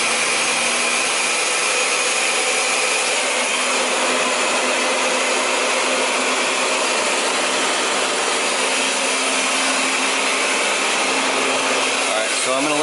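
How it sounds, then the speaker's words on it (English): A countertop blender runs on full power blending a green superfood drink, a steady loud whirring drone that holds constant from start to finish with no talking over it. "I'm turning this on full blast. Okay, match the arrows. I like this blender a lot."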